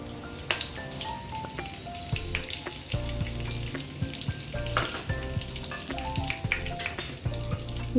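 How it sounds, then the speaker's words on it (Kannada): Mustard seeds, cumin and curry leaves sizzling in hot oil for Betageri chutney, a dense close crackle with sharp popping spits scattered throughout, no voices. "ಈಗ ಎಣ್ಣೆ ಕಾಯ್ದೈತ್ರಿ ನಾನಿಲ್ಲಿ ಒಂದು ಟೀ ಸ್ಪೂನ್ ಅಷ್ಟೆ ಸಾಸಿವೆ ಹಾಕ್ಕೊಳಕತ್ತೀನಿ ರೀ"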